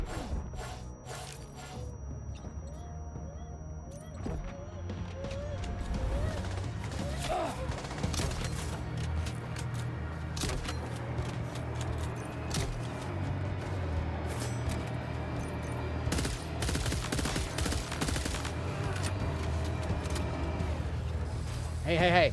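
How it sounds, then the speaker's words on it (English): Grenade launcher fire and blasts in the video game Death Stranding 2, with sharp bursts and crashing impacts over a mechanical rumble and a steady hum, while a person talks at intervals. "Grenade launcher?"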